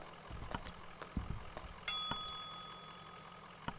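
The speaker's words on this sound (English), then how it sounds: "Ring the bell." A bell rung in the video game Kentucky Route Zero gives one bright, ringing ding that sustains and slowly fades over a quiet, low background rumble, with no talking.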